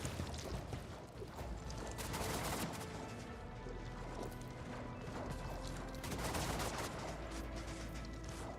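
Concentrated gunfire from Warhammer 40,000: Rogue Trader, a dense, continuous barrage of shots with several heavier bursts swelling through the battle din, loud and sustained throughout.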